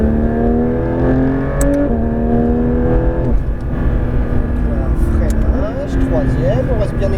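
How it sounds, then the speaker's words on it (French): Porsche 992 GT3 RS accelerating on the track at La Ferté-Gaucher, a loud, close engine climbing through the revs with a gear change along the way, while a driver talks over the steady roar inside the car. "Je peux prendre un peu de vitesse quand même. Ça m'a l'air dégagé, on est parti."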